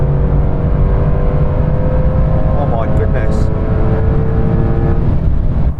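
A Porsche 911 Turbo S accelerates flat out on a de-restricted Autobahn, its engine and road roar a constant loud drone while a voice briefly exclaims partway through.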